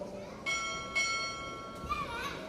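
A ship's bell rings two clear, evenly spaced strikes at a Navy chief petty officer pinning ceremony, each chime ringing on over a murmuring crowd indoors.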